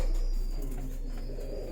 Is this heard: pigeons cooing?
yes